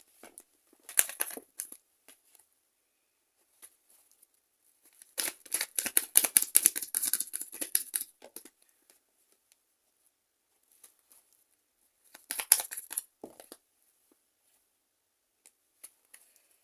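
Tarot cards shuffled and drawn by hand in short crisp bursts of riffling and flicking, separated by quiet pauses, close and fairly soft.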